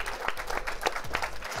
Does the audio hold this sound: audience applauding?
yes